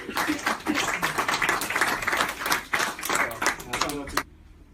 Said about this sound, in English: Can we have a round of applause for our professor?